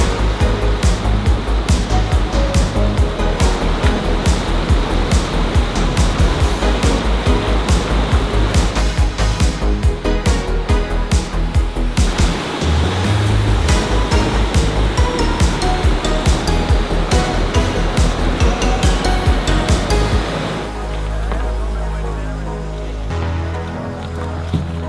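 Loud, continuous roar of river rapids with big standing waves on a wild Canadian river during a canoe trip, churning steadily throughout and shifting to a deeper rush near the end, with no talk.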